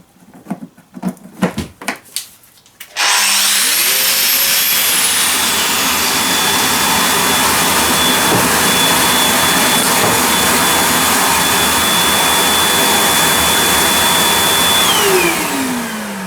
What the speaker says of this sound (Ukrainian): І включається автоматично пилосос.